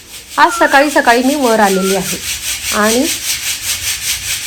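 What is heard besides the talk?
chickpeas being sifted through a sieve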